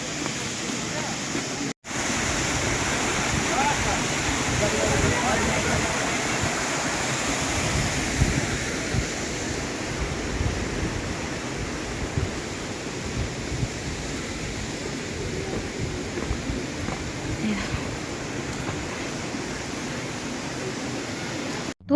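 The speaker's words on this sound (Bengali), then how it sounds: "এখানের বড় ঝর্ণাটা রয়েছে" A large waterfall roars as a steady, broad rush of falling water, close and continuous, with a brief dropout early on and faint voices now and then underneath.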